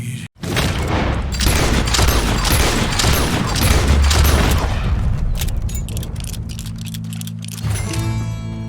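Gunfire in Red Dead Redemption 2, a dense, loud burst of shots and booms crackling for several seconds before thinning out into a lower rumble.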